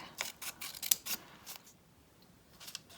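Scissors cutting through folded paper for a 3D daffodil pop-up card: a series of close, crisp snips in quick succession, then a brief pause and a final pair of cuts, with no talking.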